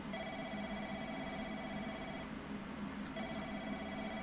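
An office telephone in a video game trills in a long electronic ring, falls silent briefly, then starts ringing again over constant droning ambience.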